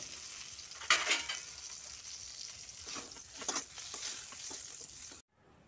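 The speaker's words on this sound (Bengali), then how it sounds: "আমার বেগুনগুলো ভাজা হয়ে গিয়েছে" Eggplant slices frying in a pan on a kitchen stove make a soft, crackling sizzle. A few louder stirring scrapes break into it before it cuts off abruptly.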